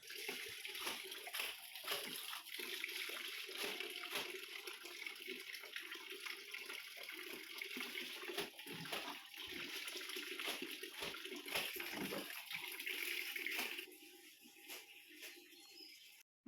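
Tap water runs and splashes while dishes are scrubbed and rinsed, with uneven gushes and clinks that fade at the end and faint bird chirps in the background, without voices.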